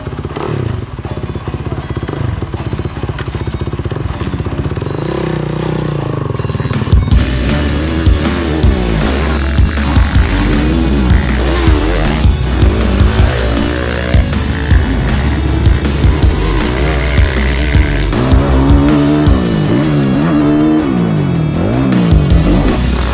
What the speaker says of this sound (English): Today we get to ride Ken Roczen's race bike.